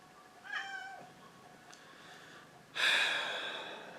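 A house cat indoors gives a single clear, drawn-out meow. Soft breathing follows, then a louder breathy snort or sigh close by at the end.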